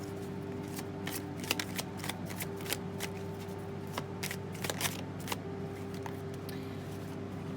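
Tarot cards being shuffled by hand, a steady run of soft, crisp riffling snaps and flicks over a low constant hum, close and fairly quiet, with no one talking.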